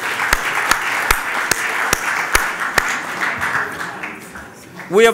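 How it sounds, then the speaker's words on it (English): An audience gives a round of applause, a continuous clapping wash punctuated by sharp, evenly spaced louder claps, ending with a brief rising whistle-like sweep. "Can we have a big round of applause for each other?"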